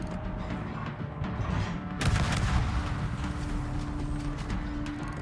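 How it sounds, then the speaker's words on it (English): World War I-era 150mm deck guns on a naval game warship boom in a heavy report about two seconds in, followed by a rumbling tail amid ongoing battle noise. "These World War I deck guns are the best. Only 150mm deck guns."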